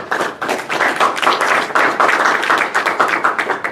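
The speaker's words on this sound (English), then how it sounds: "Have a round of applause for Paige" Audience at a college cycling press conference clapping for a student athlete, close and fairly loud individual claps forming a brisk, uneven rhythm that carries throughout.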